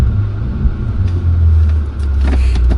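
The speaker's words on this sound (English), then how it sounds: "Right, give it a quick rev," A 2008 Bentley Continental GTC idling on a chilly day, its engine a deep steady rumble close by with a slight swell, heard on its own.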